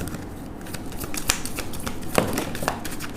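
Tarot cards slid and snapped from a deck, quick crisp flicks and rustles in a close, lively burst, with no talking.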